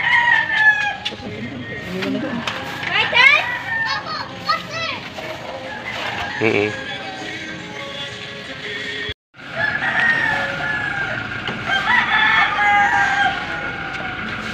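Chickens cluck and a rooster crows amid an outdoor scene, with children's voices and chatter mixed in throughout.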